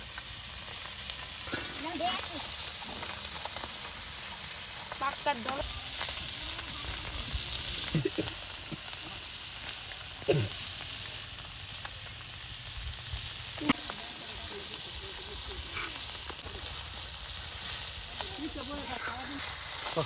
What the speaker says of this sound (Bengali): অল্প সময়ের মধ্যে একদম মচমচে কই মাছ ভাজা